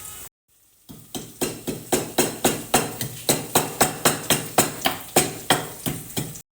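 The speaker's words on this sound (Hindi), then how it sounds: "इसमें से हमने कुछ बचाने भी है। अब हमने करना ये है कि हमने डालना है थोड़ा सा सूखा धनिया, और इसको हमने करना है, मतलब प्रॉपरली इसको पीसना है।" Dry coriander seeds pounded by hand to grind them, about twenty steady rhythmic thuds at a brisk regular pace, close and distinct with no talking.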